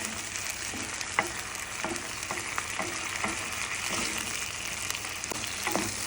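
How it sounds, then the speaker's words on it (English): Cauliflower fried rice with egg sizzles steadily in a hot frying pan, a constant crackling hiss with occasional pops and light utensil taps, close up and alone. "Listen to that sizzle."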